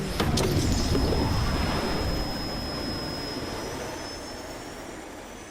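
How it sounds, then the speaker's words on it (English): An airplane takeoff sound effect: a broad, steady jet roar with a thin high whine running through it, loud at first and slowly fading, with no voices. "T. Gray and MK, you are now cleared for flight school takeoff."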